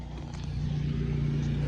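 A Dodge Neon car idles and pulls off at the start of a test drive, its engine a steady low drone that builds slightly in loudness, heard from inside with no talk.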